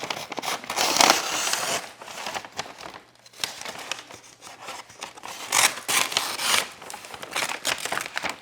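A potted philodendron micans is unwrapped from its paper packing on a kitchen counter, with close, loud bursts of crinkling and rustling paper separated by short pauses, no talking.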